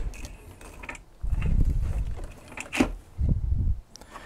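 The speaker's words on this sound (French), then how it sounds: "Je vais déplacer mon bed à l'arrière." The heated bed of a Longer LK1 / Alfawise U20 3D printer being slid along its rails, giving low mechanical rolling rumbles in two or three short pushes with light clicks between them, close and moderately quiet.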